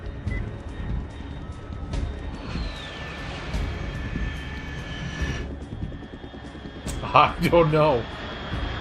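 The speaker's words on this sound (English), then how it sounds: "Unidentified aircraft detected." Aircraft engine drone in a Final Fantasy VII game scene, a steady hum with a falling whine partway through, under game ambience, with brief speech near the end.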